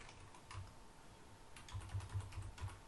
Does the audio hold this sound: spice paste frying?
no